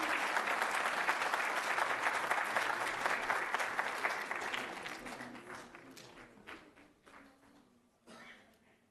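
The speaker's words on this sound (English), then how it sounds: "How about another round of applause," Graduation ceremony audience applauding loudly for several seconds, dense clapping that gradually thins and fades with a few scattered claps near the end.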